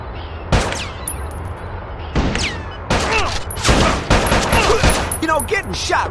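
Gunfire in the Bad Boys 2 video game during a rescue mission: several loud sharp shots and short bursts in separate clusters, close and punchy, with in-game voices calling out between them.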